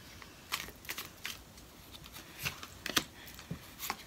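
Tarot cards being shuffled and drawn: soft, quick riffling flicks and light snaps that come in short, irregular clusters, close and fairly quiet.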